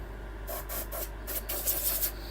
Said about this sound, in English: So I'm just going to sand this on the inside.